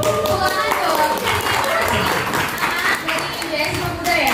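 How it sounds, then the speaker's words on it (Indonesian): An audience at an Indonesian political talk claps throughout, a dense, steady patter of many hands mixed with voices. "Tepuk tangan dulu sama yang muda."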